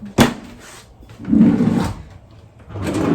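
Kitchen drawer handled during cleaning: a sharp knock near the start, then two longer sliding, rumbling scrapes of the drawer moving, fairly close with no talk.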